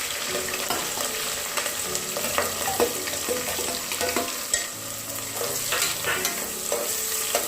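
Mustard seeds fry in heating oil with a continuous bubbling sizzle and scattered crisp pops and clicks, some from stirring, all close by and without talk.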